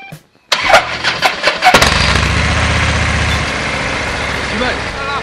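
A large chrome-laden motorcycle engine cranks with a few stuttering bursts, then catches and settles into a loud, steady rumbling idle up close, with a voice faintly audible.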